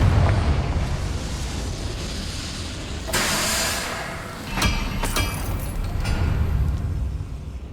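Confringo fire spell explosions in Hogwarts Legacy on PS5, with bursting blasts and crackling debris over a rumbling game soundscape, several sharp impacts clustered in the second half.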